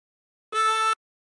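A single drawn note on a chromatic harmonica, inhaling through hole seven, held steady for about half a second with a reedy, bright tone and abrupt start and stop, alone without talk.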